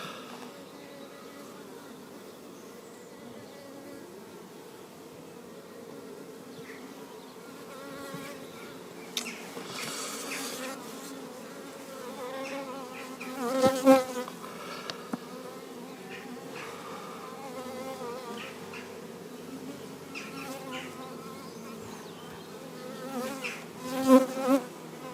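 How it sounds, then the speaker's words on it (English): Honeybees buzz in a soft, steady drone during a top bar hive inspection, with a few louder swells as bees pass close by. "I talk to my bees"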